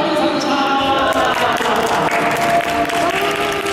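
Applause from a crowd, a dense continuous patter of clapping, with voices mixed in.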